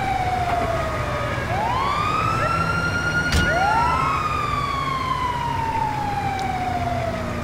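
Ambulance siren in the GTA V LSPDFR police mod, a loud sweeping wail that rises and falls continuously throughout, with a low engine rumble beneath.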